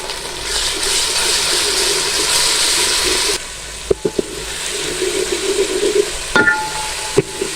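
Onions sizzle and fry steadily in a pan, then the hiss drops as garlic-ginger paste goes in, followed by sparse stirring clinks and scrapes against the pot.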